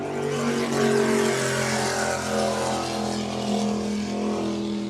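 Mod V class powerboat racing engines at the Key West World Championship roaring steadily from a distance, a sustained droning rumble with slight swells, no talk.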